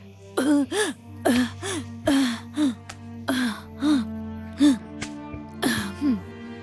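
A series of short, harsh coughs and throat-clearing bursts from a smoke-filled house repeat in an uneven rhythm, close and fairly loud, with quiet pauses between.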